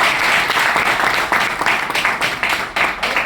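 Crowd applause at a business presentation, a dense wash of clapping with rhythmic surges, sustained and fairly loud for a few seconds.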